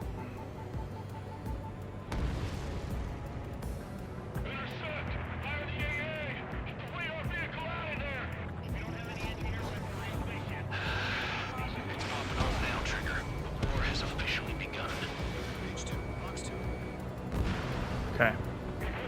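Bombs dropped on anti-air radar vehicles in the combat flight game Ace Combat 7 burst in a dense, continuous roar of blasts and rumbling, layered with jet noise and game effects, while radio voices talk over the action.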